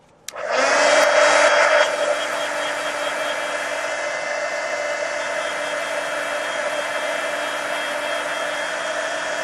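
A hair dryer dries wet paint on a coloring project. It switches on abruptly, runs loudly at first, then settles into a steady, even whooshing roar that continues alone.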